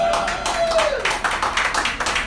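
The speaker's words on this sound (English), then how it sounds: "Who, by a round of applause, what guys have measured their penis" A stand-up comedy crowd claps in response to a show-of-hands question from the comedian; several seconds of brisk, uneven clapping from a fair number of people, reasonably close and loud, with a brief vocal tone rising at the start.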